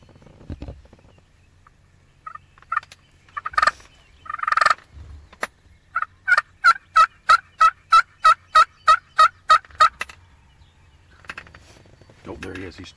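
Wild turkey gobbling during a turkey hunt, a few scattered calls followed by a fast, regular run of about a dozen loud rattling gobble pulses nearby, with quiet, sparse sounds before and after.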